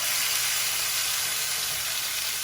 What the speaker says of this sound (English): We're going to brown it a little bit on both sides